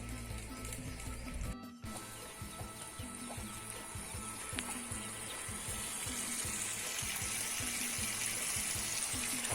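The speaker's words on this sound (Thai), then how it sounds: "ตอนนี้เปิดน้ำเข้า เรื่อย ๆ นะครับังไม่เต็ม" Tap water pours steadily into a tarpaulin fish pond, a continuous close rushing splash with a brief interruption near the start, then a smooth even flow with no voices.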